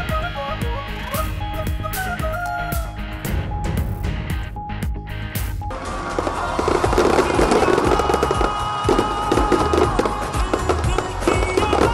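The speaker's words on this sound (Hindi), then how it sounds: "रात 12 बजे मीनारे पाकिस्तान पर आतिशबाजी का शानदार मुजाहिरा।" A fireworks display at midnight at Minar-e-Pakistan in Greater Iqbal Park, Lahore, with a crackling rapid barrage of bursts that thickens into a dense, continuous roar of pops and crackles.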